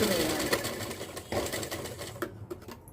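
Sewing machine running stitches over gathered fabric pleats: a close, rapid mechanical whirring in short repeated bursts, with brief pauses between runs.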